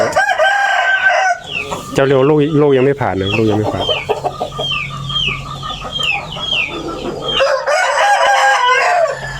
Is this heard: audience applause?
no